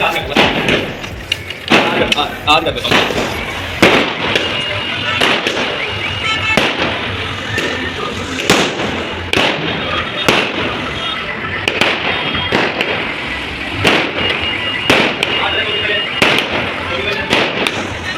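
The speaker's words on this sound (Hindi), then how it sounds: "दिवाली दिन में ही मिलने लग रही है, तय धमाके तय बम फटाके फूटने लग रहे हैं" Firecrackers burst repeatedly in sharp, loud cracks at an irregular pace during a Diwali-style street celebration in Alwar, with voices and street noise underneath throughout.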